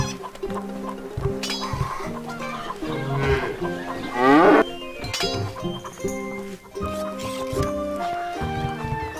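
Cattle moo repeatedly in the Stronghold video game, with clucking chickens mixed into a busy farm soundscape over game music, and a sharper burst around the middle.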